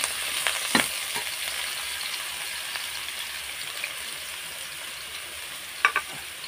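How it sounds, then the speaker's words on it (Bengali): Eggplant frying in oil with bay leaves, a soft, even hiss of sizzling oil running throughout, with a few brief stirring scrapes near the start and near the end, close but fairly quiet. "তেজপাতার পরে আমি দিয়ে দিব বেগুনগুলো দিয়ে আমি একটু হালকা করে নেড়ে চেড়ে নিব"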